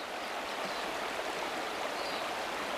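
Fast-flowing river water rushing over a stretch of riffles, a steady close broadband roar with constant churning texture, no voices.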